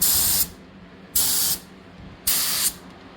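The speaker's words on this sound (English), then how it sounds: "pressure's at 30 psi. Fluid and air nozzles are maxed out" A spray gun at 30 psi sprays Nason 2K primer in three short hissing bursts of about half a second each, evenly spaced with quiet gaps, loud and close.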